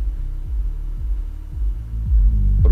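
A DIY two-transistor subwoofer kit with a frequency control puts out a deep, throbbing bass tone. Its low pulses repeat about every half second, and the pitch drops lower and grows louder toward the end.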